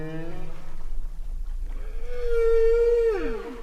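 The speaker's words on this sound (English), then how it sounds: "for me, that was the very first time I heard humpback sing" Humpback whale song recorded underwater off the Philippines, a long rising tonal moan that holds and then sweeps downward, preceded by fainter harmonic calls over low rumbling water noise, with no voices.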